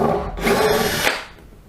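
A power drill whirs briefly as it backs screws out of hardwood, a short loud burst with a grinding tone that cuts off and tails away.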